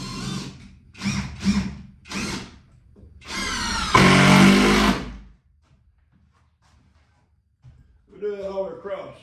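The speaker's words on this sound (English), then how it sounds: "Put screws in all across here. Back this one out" A power drill drives long screws into wood while a store room shelf is being built, coming in several short close bursts and then one longer loud run, with talking between the bursts.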